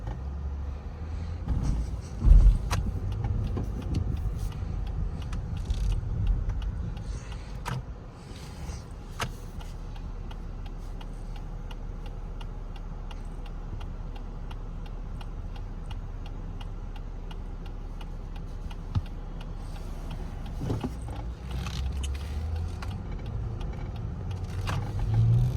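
Cabin of a 2022 Lexus ES350 driving in sport mode: a steady, quiet low road and engine hum with soft faint ticking and occasional light bumps, no voices.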